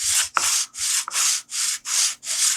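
An aluminum sanding block rubbed back and forth along the inside edge of a raised piece of wood, seven close, even rasping strokes in steady rhythm with brief gaps between them.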